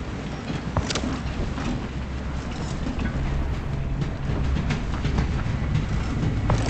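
A steady, loud rumble of a moving train with faint rhythmic clacking comes from the video game VoidTrain, continuous throughout without talk.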